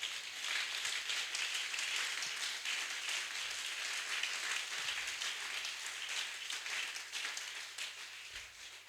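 A church congregation applauds and cheers at a worship gathering, a sustained roomful of clapping that stays steady and fairly distant throughout.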